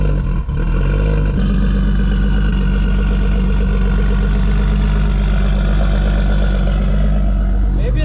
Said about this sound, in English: First start up in the wild, let's see if the idle smooths out.